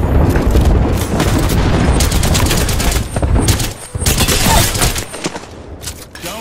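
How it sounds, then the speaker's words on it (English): Loud, dense barrage of airstrike explosions from Apex Legends, booming blasts layered with rapid crackling gunfire that swells and dips in bursts for several seconds without pause. "Got an airstrike on."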